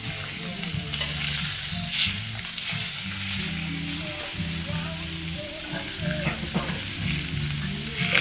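Steak tips and potatoes sizzle and fry steadily on a Blackstone flat-top griddle, a close, continuous crackle with faint stirring and scraping now and then.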